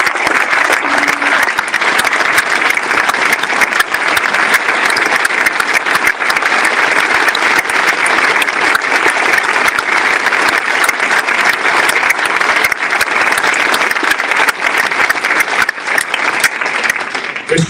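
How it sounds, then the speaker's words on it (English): A football club supporters' trust meeting audience gives sustained, loud applause, a dense, even wash of many hands clapping for the full length without pause, close and filling the room. "So, a huge round of applause, please, for a leader and legend of Sheffield Wednesday Football Club, Mr. Kris Wigfield."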